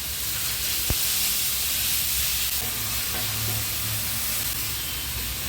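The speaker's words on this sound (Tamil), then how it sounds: "இப்போ பீட்ரூட்டை மட்டும் லேசாக ஃப்ரை பண்ணிக்கிடலாம்." Beetroot fries lightly in a pan with a soft, even sizzle and hiss. One faint tap sounds early on, and there is no talking.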